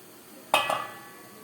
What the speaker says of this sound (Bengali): এবার ঢাকাটা খুলে আপনাদের দেখাবো।